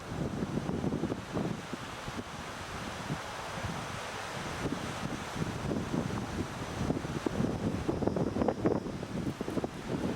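Wind blows steadily outdoors on the outskirts of Esquel, Argentina, a continuous broadband rush with gusty swells and buffeting against the microphone through the whole stretch.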